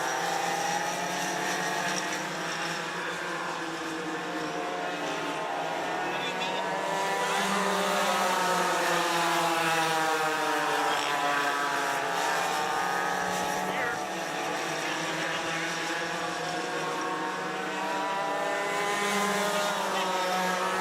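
Karts race at Forks Karting Speedway as a pack of engines drones loudly and continuously, pitches rising and falling as they pass, with an announcer talking over the noise.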